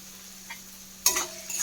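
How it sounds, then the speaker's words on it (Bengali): Salted vegetables for chow mein are stir-fried in a pan, a quiet hiss broken by a sudden loud burst of sizzling and a scrape of the spatula. "এইভাবে নুন দেওয়ার পর সবজিগুলোকে একটু ভেজে নেবো হালকা করে"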